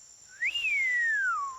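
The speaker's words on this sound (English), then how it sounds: "I've got a bad whistling habit" A cartoon character whistles a single clear note that rises sharply, then slides slowly down, heard alone and close against a faint steady tone.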